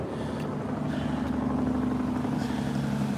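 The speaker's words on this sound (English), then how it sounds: "Sounds like a big semi coming up over here." Heavy traffic rumbles across the Mackinac Bridge, with a big semi truck's low engine drone building steadily and continuously at moderate distance, no voices.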